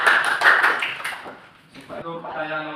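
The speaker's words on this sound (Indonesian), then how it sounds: "Tepuk tangan, cepat." Short burst of classroom clapping from a group of students in an Indonesian lesson, fairly close, fading out before a voice and then a teacher's voice.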